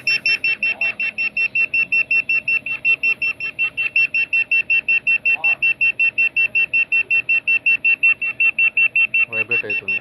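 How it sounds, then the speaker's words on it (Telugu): A handheld restaurant pager buzzer beeps in a fast, unbroken run of sharp electronic pulses for about ten seconds. The sound is loud and close, and a voice cuts in briefly near the end. "మోగుతుంది, సౌండ్ వస్తుంది, బీప్ సౌండ్ వస్తుంది"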